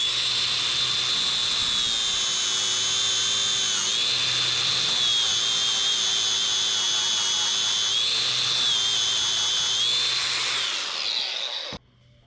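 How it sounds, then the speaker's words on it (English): A power grinder cuts steadily into the bottom piece of a metal welding clamp, a loud, continuous high-pitched whine with slight pitch dips, running nearly twelve seconds before cutting off abruptly. "Looks like we need to grind this out,"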